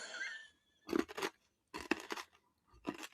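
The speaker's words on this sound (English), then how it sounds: "Can you hear the crunch?" Something sweet is bitten and chewed up close, giving three separate loud crunching bursts with quiet gaps between them.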